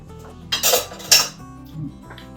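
A metal cooking pot of jambalaya is handled in a home kitchen, giving two sharp, close metallic clanks a half-second apart, then a softer knock, with quiet between.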